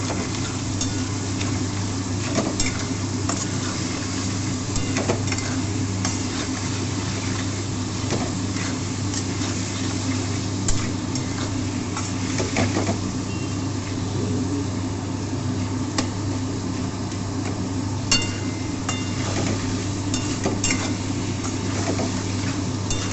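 Chopped garlic and onion frying in a pan while being stirred, a steady close sizzle with occasional scraping clicks running throughout without pause.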